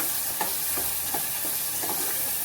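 Spices with turmeric, chili powder and coriander-cumin powder sautéing in a pan for a cowpea and potato usal, a constant loud hiss with rhythmic soft stirring strokes about every half second, no talk.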